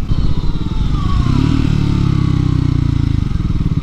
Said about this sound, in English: Pretty strong engine braking.